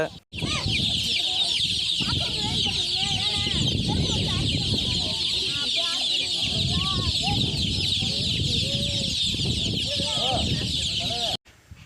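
Native country chickens cluck and chirp close by, many overlapping calls in a busy, continuous chorus with a crow-like call among them, running steadily before cutting off abruptly.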